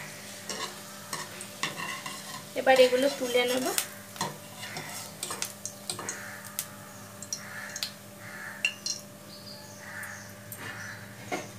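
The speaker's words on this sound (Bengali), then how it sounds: "এবার এই বলগুলোকে আমি আস্তে আস্তে তেলের মধ্যে দিয়ে দেব" Small balls frying in hot oil in a wok give a low, steady sizzle with occasional clinks of a utensil against the pan, and someone speaks briefly partway through.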